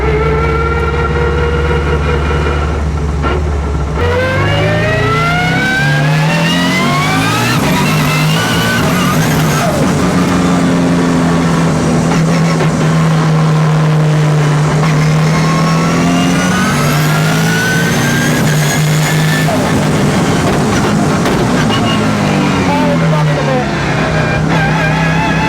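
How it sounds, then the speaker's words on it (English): An 800hp four-wheel-drive Subaru Legacy hillclimb car revving hard while driving, its loud engine wailing up and down through repeated sweeps in pitch with gear changes, harsh and close, with talk mixed in. "I had no idea just how noisy this car would be"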